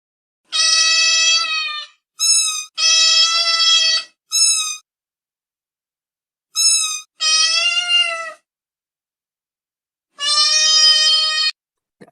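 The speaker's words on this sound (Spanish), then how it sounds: "Son un conjunto de maullidos que probablemente a nosotros no nos dicen nada" Recorded domestic cat meows played as an escape room clue, a series of clear, drawn-out meows and short chirps spaced apart with silent gaps between them, close and loud.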